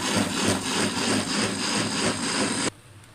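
A kitchen grinder whirs continuously as it grinds chopped onion, tomatoes and green chillies into a paste, with a steady pulsing motor drone that cuts off abruptly near the end.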